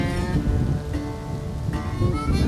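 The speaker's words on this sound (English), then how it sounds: "it's windy, thundering over here" Rolling thunder and steady wind roar together throughout, loud and continuous, during an October bowhunt for a big Kansas buck.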